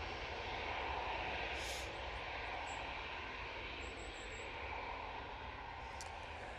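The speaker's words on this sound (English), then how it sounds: "It is the KLM coming in from Amsterdam Schiphol using their E175." A KLM Embraer E175 jet arriving at Manchester Airport from Amsterdam Schiphol produces a continuous, fairly quiet engine rumble and whine, steady from start to finish, with no voices.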